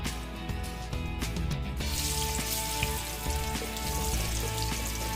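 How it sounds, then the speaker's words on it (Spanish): Eggplant fries in unsalted butter over high heat, giving a steady sizzle with crackling and soft popping. A louder wash of sizzle starts partway through and holds close and continuous to the end. "Y vamos a empezar a agregar nuestra berenjena para que se empiece a freír."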